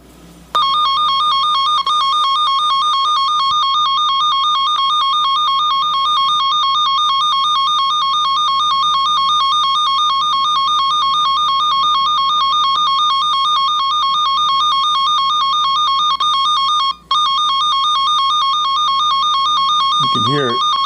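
A DC wiring short tester emits a loud, steady, high electronic continuity tone that rings almost without a break for about twenty seconds, cutting out once briefly before resuming.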